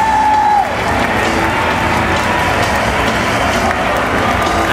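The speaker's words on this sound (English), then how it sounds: "a raucous ovation for the man from Caracas, Venezuela" A ballpark crowd at a baseball game gives a sustained ovation, dense applause and cheering filling the whole stretch at steady loudness, with a brief whistle-like tone at the start.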